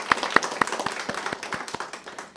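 Small audience at a VA clinic ribbon-cutting clapping, sparse individual claps in an uneven rhythm, close and distinct, thinning out over a couple of seconds.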